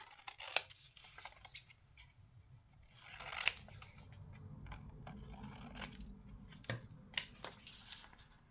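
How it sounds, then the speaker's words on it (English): Scissors trimming paper for a journal, several quiet crisp snips and rustles spread out and close by, faint overall, with no talking. "I'm going to trim that white part off."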